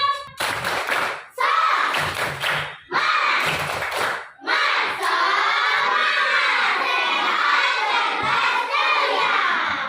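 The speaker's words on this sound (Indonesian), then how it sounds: "Mau lihat dulu semangatnya, tepuk semangat." Schoolchildren in a classroom perform the tepuk semangat clapping chant, shouting in unison between bursts of rhythmic clapping in short breaks, then carrying on in a long, loud sung chant mixed with claps.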